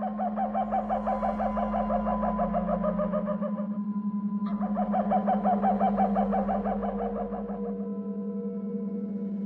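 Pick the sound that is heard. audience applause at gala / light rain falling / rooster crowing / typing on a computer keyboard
rooster crowing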